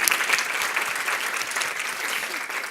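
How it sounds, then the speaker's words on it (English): A large audience at a conference closing plenary applauds, giving loud, sustained clapping for nearly three seconds. "Now you can applaud."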